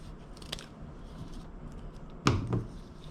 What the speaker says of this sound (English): So I'm just going to cut it out.